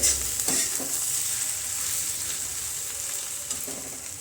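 Onions frying in a pan for paneer bhurji give a steady, close sizzle with a few spatula scrapes and taps near the start and end, and no voices.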